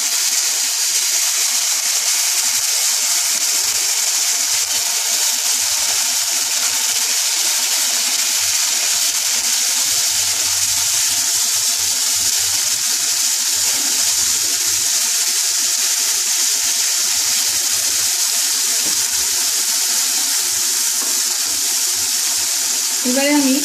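A small splash of water goes into a pan of dosa chutney cooking on the stove, giving a steady close sizzling hiss that runs on evenly, with a brief clatter near the end.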